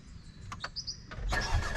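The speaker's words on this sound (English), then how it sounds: "if I was to hold the up paddle and start the car" A 2019 Mercedes-Benz A35 AMG hatch starting up, the engine catching with a loud burst partway through after a few faint clicks, then settling into a steady, fairly close running rumble.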